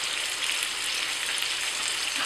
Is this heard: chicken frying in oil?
yes